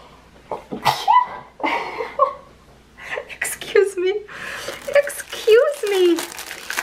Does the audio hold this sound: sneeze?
yes